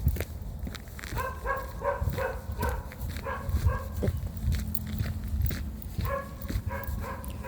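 A dog on an evening walk barks repeatedly in short, close, loud bursts, with a few softer whimpering yelps mixed in over footsteps and outdoor background noise.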